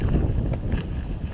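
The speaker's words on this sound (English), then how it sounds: "it is very windy out here today" Strong wind gusting at a canal bank, a steady loud rumble battering the microphone with no talk over it.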